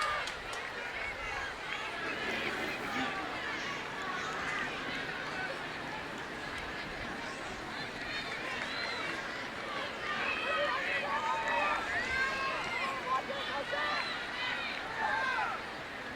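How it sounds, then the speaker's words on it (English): A large crowd at a women's college soccer semifinal between North Carolina and Florida State keeps up a steady murmur of chatter and cheering. A commentator talks over it throughout. "Good crowd on hand."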